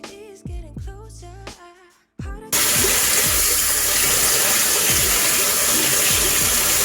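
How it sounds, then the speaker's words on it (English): A brief stretch of music gives way to a loud, steady rush of water from a tap as bleach is rinsed out of hair, continuing without a break to the end. "Gonna rinse this out."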